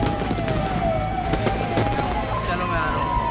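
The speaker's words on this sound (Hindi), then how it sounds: "इन तस्वीरों में अभी भी धमाकों की आवाज सुनाई दे रही है" A dense rumble of distant explosions and crackling bangs from a fireworks factory blast in Harda, India, under continuous background noise, with a faint tone running through it.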